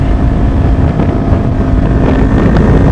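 A Kawasaki Ninja 400 motorcycle is ridden, a loud, steady engine drone close to the microphone, heavily mixed with buffeting wind noise and no talking.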